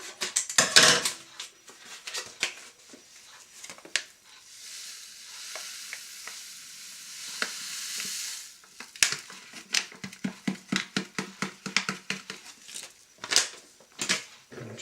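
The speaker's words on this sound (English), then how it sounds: "And just stir that in." A wine yeast sachet is stirred into a red wine kit with a spoon, producing a long series of quick, close scraping and sloshing strokes that speed up into a steady rhythm, with no talking.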